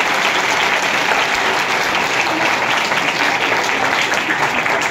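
Congregation in a church clapping loudly during a feast celebration, a dense continuous wash of applause sustained evenly throughout.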